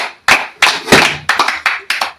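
Several people clapping at a birthday party, a run of about seven sharp, loud bursts of claps spaced irregularly, close by and with no other sounds between.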